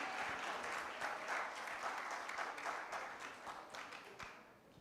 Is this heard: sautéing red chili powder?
no